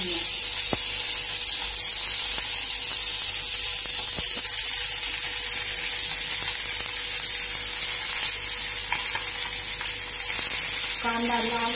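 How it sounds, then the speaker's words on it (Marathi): Thinly sliced onion frying in a pan for farsan amti, heard as a loud, continuous hiss of sizzling oil with a few faint clicks and a brief stir near the end. "त्याच्यामध्ये आपण हा बारीक उभा चिरलेला कांदा टाकून घेऊया।"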